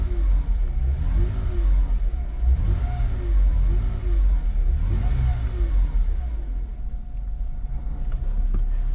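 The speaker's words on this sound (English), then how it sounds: "Very smooth and goes back down to a lovely idle." The idling M112 engine in a 1997 Mercedes C240 gets several light blips that rise gently and settle smoothly back to a low, steady idle hum, heard close with no voices.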